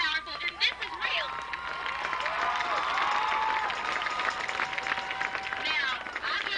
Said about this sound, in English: just give a really big round of applause